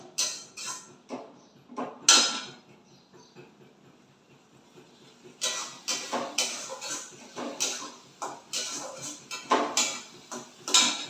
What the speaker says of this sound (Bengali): তো এবার ভালো করে কষানো হবে